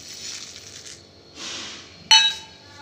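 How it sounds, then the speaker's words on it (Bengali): Spices and chillies are ground on a stone grinding slab (shil-nora), with two soft, rasping strokes followed by a sharp stone-on-stone clink. The sounds are close and quiet, with no talking. "আমি এবার এগুলোকে শিলে বেটে নিচ্ছি আস্তে আস্তে"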